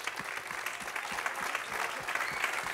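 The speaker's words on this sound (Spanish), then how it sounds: "Dale ese aplauso fuerte al Señor." A church congregation applauds loudly during a Spanish-language sermon, a steady dense wash of clapping hands filling the room for a few seconds with no voices above it.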